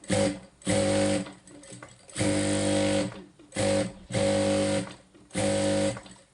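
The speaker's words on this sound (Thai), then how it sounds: "เวลาเราเย็บเนี่ยเราก็กดเราก็ดันไปพร้อมกับเท้าเราที่เราเหยียบแป้นมา" A pedal-driven sewing machine stitches a small piece of fabric in repeated bursts of rapid whirring, each lasting about half a second to a second with short pauses between, loud and close.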